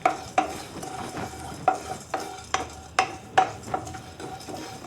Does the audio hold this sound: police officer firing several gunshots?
no